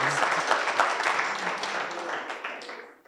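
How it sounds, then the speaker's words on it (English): A conference audience applauds during closing remarks, a dense burst of hand clapping from a seated crowd in a hall that gradually thins and fades out toward the end. "Can we give ourselves a round of applause for being the survivors?"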